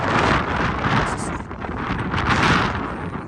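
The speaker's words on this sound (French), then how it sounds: "Les amis, je vous raconte pas le vent qu'il y a." Strong wind roars across a roof where a brick chimney is being built, loud buffeting gusts hitting the microphone in surging waves with no speech.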